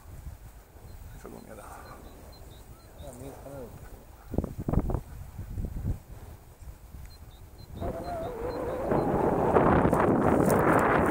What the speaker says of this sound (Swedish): Det blåser alltid mest här.